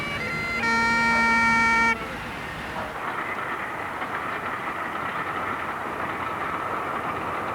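A train on the Kyle of Lochalsh railway in Scotland sounds a loud, sustained horn blast of about two seconds, then its rumble and rolling noise carry on steadily underneath.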